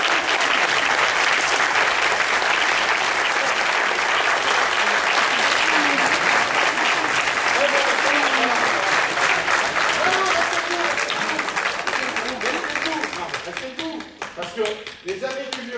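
Sustained applause from an audience standing for members of the Amis du Vieux-Poitou, dense and loud throughout before thinning near the end as talk emerges over the last clapping.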